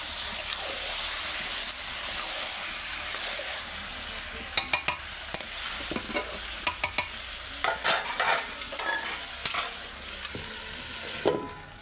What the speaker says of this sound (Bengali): এইভাবে আমি চিকেনটা ভালো করে কষে নেব। আমি চাপা দিয়ে দিয়ে চিকেনটা কষবো।